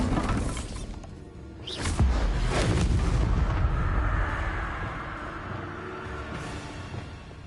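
A Bombarda explosion spell in Hogwarts Legacy detonates with a sharp crack and heavy boom near the two-second mark, followed by a long rumbling, crackling tail that slowly fades.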